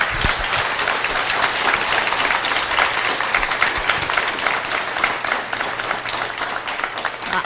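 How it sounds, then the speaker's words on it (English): Applause from an evening event audience for a discussion panel on opinion writing, a thick continuous wash of many hands clapping at an even, fairly loud level throughout. "I want to thank this powerful panel here. Let's give them a round of applause."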